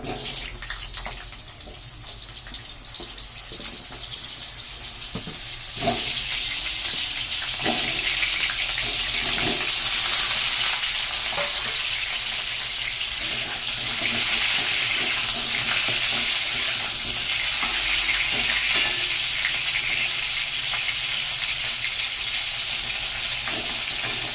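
Cut pointed gourd fries in hot Freedom refined oil, a steady loud sizzle throughout that swells partway in, with occasional stirring scrapes and no talking.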